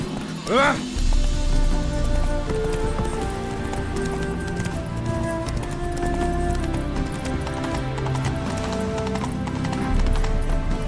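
Horse hooves clip-clop steadily in The Witcher 3 while the horse is ridden, a continuous trotting rhythm under game music and spoken dialogue.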